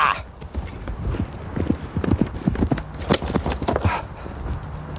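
Horse hooves pounding at a gallop during a lance charge, a loud, fast, rhythmic drumming of clip-clops building over several seconds, with a snort or whinny and a brief shout.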